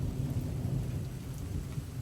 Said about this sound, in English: Thunder over Fayetteville, Georgia.